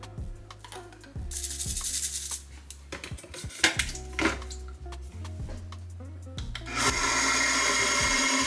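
A kitchen blender blends oats into oat milk creamer with loud motor whirring in several bursts, broken by clunks and brief pauses, then a rising, steady high roar at the end.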